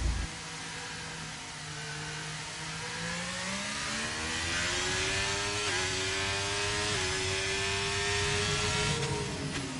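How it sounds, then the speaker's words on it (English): A Ferrari race car engine in a racing video game winds steadily upward through the rev range, a smooth, sustained whine that grows gradually louder, heard alone with no talking. "Let's watch the Ferrari of Tepiso."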